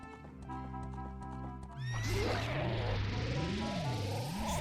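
Horse in the Zelda Ocarina of Time video game gives a loud, high whinny that rises and wavers, followed by steady clip-clop galloping hoofbeats over game music, with no talking.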